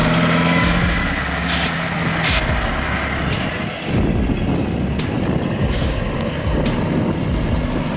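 A heavy logging truck engine roars continuously nearby, with a low rumble and a few sharp hissing bursts like air brakes.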